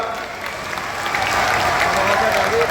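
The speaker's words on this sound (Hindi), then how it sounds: "नायब सिंह जी के साथ लिए जोर से ताली बजाइए एक बार।" Loud crowd clapping at a Haryana political rally, broad and sustained, building slightly over nearly three seconds with faint voices mixed in.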